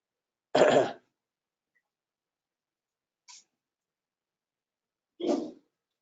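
One short, sharp sneeze bursts out of silence, followed by two fainter, brief breathy sounds spaced a couple of seconds apart.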